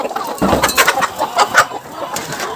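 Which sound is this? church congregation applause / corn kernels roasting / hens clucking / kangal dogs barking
hens clucking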